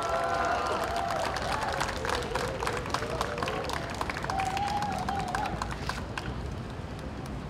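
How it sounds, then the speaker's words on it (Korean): Crowd at a municipal council candidate's campaign office opening clapping and cheering for the candidate, dense sustained applause with whoops rising over it, while an announcer's amplified voice talks through part of it. "큰 박수와 환호 부탁드리겠습니다"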